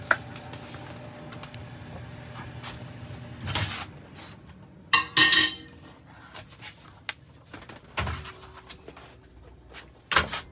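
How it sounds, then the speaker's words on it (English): A casserole dish of vegan green bean casserole goes into a kitchen oven: quiet clinks and shuffling, a few sharp knocks, and a louder thud as the oven door shuts, with stretches of near silence between. "And in the oven it's going to go."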